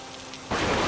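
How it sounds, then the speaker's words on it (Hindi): Heavy rain bursts in partway through, a loud, steady broadband hiss of downpour in an animated cartoon scene, following a quieter stretch with faint dripping. "बारिश लगातार हो रही थी, लेकिन इस बार बारिश रुकने का नाम ही नहीं ले रही थी।"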